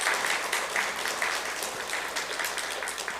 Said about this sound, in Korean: 여러분들 우리 두 분 장로님에게 박수로 축하하시길 바랍니다